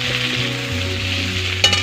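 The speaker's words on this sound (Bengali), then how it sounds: "পেঁয়াজটা ভাজা হয়ে গেল এই টমেটো দিয়ে দিলাম" Onions and tomato frying in oil in a pan for a curry, with a steady, close sizzle throughout and a brief clatter near the end.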